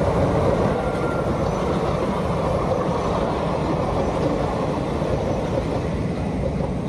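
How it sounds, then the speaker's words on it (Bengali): A train rumbles steadily across the Bhairabsthan bridge near Shushunia, a loud continuous roar of wheels and carriages that holds close and even throughout with no voices. "ভৈরবস্থান ব্রিজের উপরে ট্রেন যাচ্ছে"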